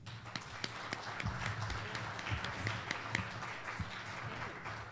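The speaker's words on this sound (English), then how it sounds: "let's give them a round of applause" Audience applause at the close of a conference, a broad steady wash of clapping with scattered sharper claps running throughout at a moderate, slightly distant level.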